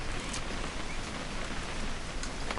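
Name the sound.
rain in the video game What Remains of Edith Finch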